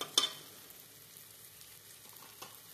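Frying onion, with red chili powder just added, sizzles softly and steadily in a pan. A brief stir or clatter comes near the start and a faint tap near the end.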